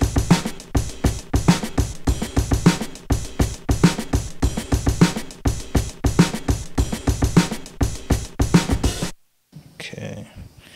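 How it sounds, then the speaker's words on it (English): Full sequenced drum beat of hi-hats, snares and kicks playing together in a steady, dense groove that stops abruptly near the end, leaving faint low noise. "So when played all together, the drums sound like this."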